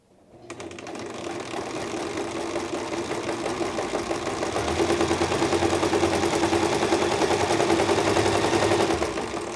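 A sewing machine runs steadily, its needle chattering in a fast, even rhythm that picks up speed partway through; close and continuous with no talking.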